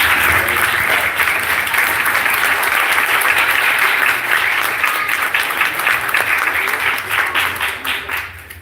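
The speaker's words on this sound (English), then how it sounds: "please give them a big round of applause" A big audience applauds sumo wrestlers after their training display: dense, steady clapping fills the whole stretch at full volume, then thins and tapers slightly toward the end.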